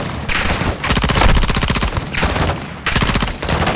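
Dense, loud bursts of gunfire in the Modern Warfare II campaign, rapid shots rattling in long overlapping volleys with brief gaps between them.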